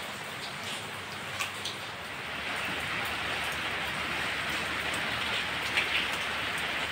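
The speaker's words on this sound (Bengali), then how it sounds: "বৃষ্টি আর আজকে কমবে না।" Steady rain falls on a rural home courtyard, a dense even hiss that swells slightly midway, with a few sharper drops standing out, fairly faint and with no voices.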